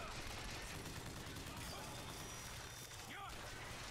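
Gunfire in the shooter game Bioshock Infinite, a dense, continuous volley of loud shots and impacts with battle noise filling the whole clip.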